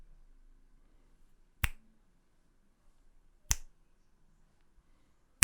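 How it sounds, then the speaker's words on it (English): Two sharp, close finger snaps spaced about two seconds apart in an otherwise quiet room, each one dry and bright, used as a percussion layer for a vintage-style sample. "the first one I use is just me snapping my fingers"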